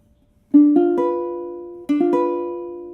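Two arpeggiated statements of a diminished chord in first inversion, each group of notes entering one after another and ringing on, with the second group following closely after the first. The setting is ear training and there is no talk.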